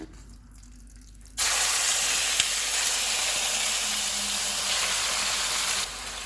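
Minced chicken hitting hot oil, a quiet start and then a sudden loud, steady sizzle that holds for several seconds before easing slightly near the end, with no voices.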